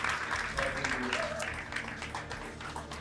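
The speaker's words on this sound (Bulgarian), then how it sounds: "аплодисменти за нашите гости" Audience applause for guests at an event, a dense crackle of clapping hands held at moderate level with some voices mixed in.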